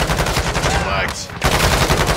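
Rapid machine gun fire in a shooter video game rattles in close, loud bursts, briefly pausing midway before resuming, with little else around it.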